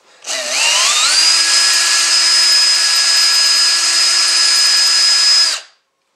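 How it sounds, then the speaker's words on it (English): A power drill cleans up a pre-drilled hole in red oak while a storage bench is built, winding up to a steady high whine that holds evenly for about five seconds before stopping, close and loud with no talking. "we can take our drill"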